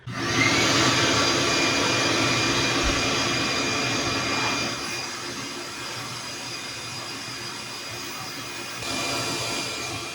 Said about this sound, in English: I'm actually going to take my shop vac now.